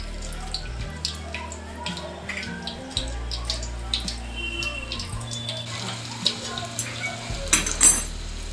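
Garlic cloves drop into a pan and get stirred while okra curry is being cooked, giving soft scattered scrapes and clinks over a steady low hum, with a louder burst of clatter near the end.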